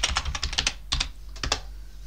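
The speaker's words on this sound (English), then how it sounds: "Type in your password." Keys on a computer keyboard tapped to enter a password during a Ubuntu 23.10 install, a quick burst of close, crisp clicks, a pause, then a few more presses, with no talking.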